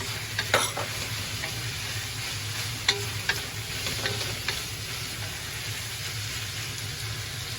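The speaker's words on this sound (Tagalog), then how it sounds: "ilalagay ko na po ang mga gulay. Lagay ko muna ang sineji. After po yan, ang carrots." Vegetables and carrots go into a pan with already tender meat and are stir-fried, giving a steady close sizzle with occasional scraping stir clicks and a few louder knocks.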